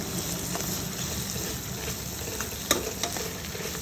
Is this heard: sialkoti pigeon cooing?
no